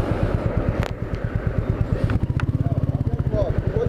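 A Royal Enfield Meteor 350 motorcycle ridden through city streets, its single-cylinder engine thumping in a steady, rapid low pulse close by, with brief clatters and traffic noise around it.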